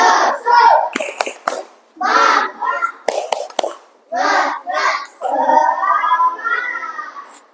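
Classroom children perform a tepuk semangat rhythmic clapping chant, bursts of chanted young voices alternating with sharp, close hand claps in a patterned rhythm.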